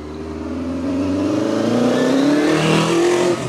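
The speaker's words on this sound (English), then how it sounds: "Listen to that exhaust note. Just fantastic." A 1975 Kawasaki Z1 900 motorcycle revs up close and loud, its exhaust note rising steadily in pitch over a few seconds before easing off, with no talking.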